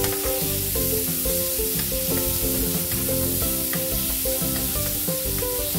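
Garlic and tomatoes sizzle and fry in a pan while being stirred, a steady close hiss running the whole time with no voices.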